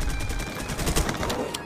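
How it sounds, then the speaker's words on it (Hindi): Rapid bursts of gunfire from a Free Fire tournament match fill the whole stretch, loud and dense like automatic weapons and a launcher, with a sharp louder shot near the end. "इतनी गोलियां चला रहे भाई"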